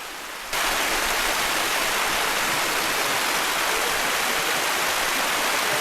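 Water rushes steadily through a dam canal at the Chakra reservoir and Savehaklu Dam, a loud, continuous broadband roar that begins abruptly after a brief quieter moment and holds without pause.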